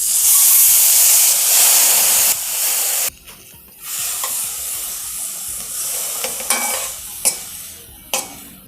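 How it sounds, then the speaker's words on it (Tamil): Chopped banana stem frying in butter in a pan, a loud close sizzle and hiss that drops suddenly partway through, then quieter crackling with stirring clicks and scrapes. "இந்த பட்டரில் இது நல்லா பொரியட்டும்."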